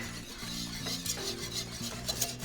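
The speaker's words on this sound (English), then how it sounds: "Just whisk them right into the sauce." Egg yolks being whisked into a sauce, a quick faint scraping and clinking of a whisk against a pan with a soft rhythmic stirring texture.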